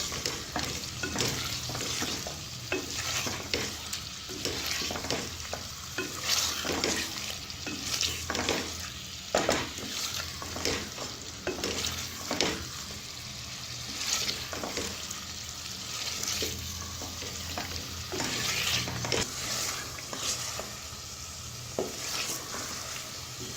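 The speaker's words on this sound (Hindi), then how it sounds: "इसके अंदर हम चिकन ऐड कर देंगे और चिकन ऐड करने के बाद इसे अच्छे से भून लेंगे" A large batch of chicken being fried in masala in a pan sizzles steadily up close, broken by repeated rhythmic scraping and stirring strokes, with no speech.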